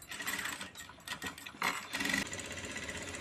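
Sewing machine stitching a doubled strip of three-inch-wide net cloth, a close, rapid mechanical clatter in short bursts with brief pauses, no talking.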